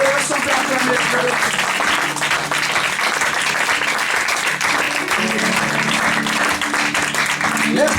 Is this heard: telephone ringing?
no